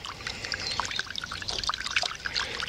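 Hot water pours into a container with squirted dish soap to soak an old magnet-fished Shakespeare fishing reel, a steady splashing, bubbling trickle close by with no talking.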